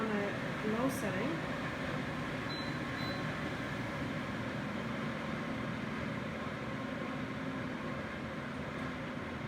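A nail table dust filtration system on its low setting hums steadily with an even airflow whir throughout, under a person speaking at close range.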